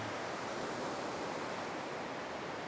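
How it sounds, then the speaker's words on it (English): The Miller River in the Pacific Northwest, roaring with snowmelt, makes a steady, dense broadband rush of fast water, continuous and fairly loud with no voices over it. "there's the Miller River roaring with all the melting snow"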